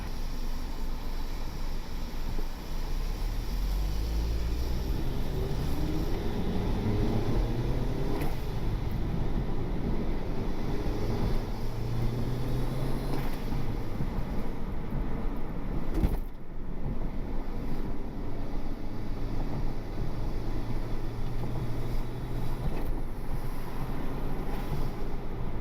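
A turbocharged Honda Civic R18 engine accelerates hard in second gear, a continuous loud drone heard from inside the car, with wind and road noise blended throughout and a brief dip midway.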